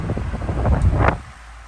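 A Hatari S16D4 digital electric fan runs at top speed 3, giving a steady, close airy whoosh of wind that swells briefly, then drops to a softer hum near the end.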